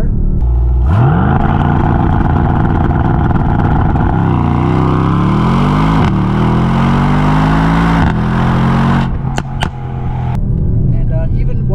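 A Mercedes-AMG S63 Cabriolet's engine roars loudly and revs upward through several hard gear changes during a launch-control start, pitch climbing steadily between shifts, close and dominant throughout.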